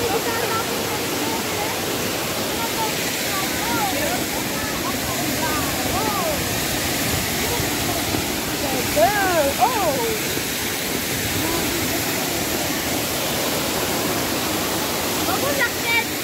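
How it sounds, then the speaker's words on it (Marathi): Small waterfall at Thoseghar in Satara, a steady broadband rush of falling water holding constant throughout, with faint bird calls and brief voices mixed in. "आता आपण आलोय छोट्या धबधब्याकडे"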